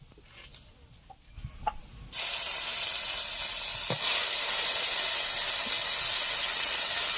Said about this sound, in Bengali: এই আলু ভাজা তেলে দিয়ে দিচ্ছি আমি আদা বাটা